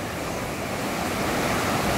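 Sea waves rolling onto a beach at Koh Chang, Thailand, heard as a steady, loud wash of surf with a slight swell toward the end, with no voices over it.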